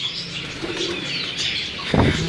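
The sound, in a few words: red-eyed pigeons cooing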